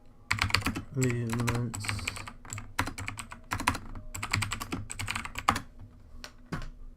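Quick, uneven keystrokes clatter on a computer keyboard as a Google search is typed, with a brief spoken sound near the start.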